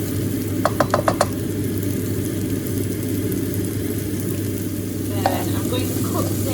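Peppers fry on high heat in a pan, a constant close sizzle and hiss with a few quick clicks of stirring or handling near the start and again later.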